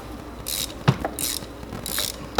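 A ratchet wrench works a spark plug loose on a 2017 Jeep Cherokee, giving three short bursts of rapid clicking a little over half a second apart, fairly close and moderately loud, with small metallic knocks between the bursts.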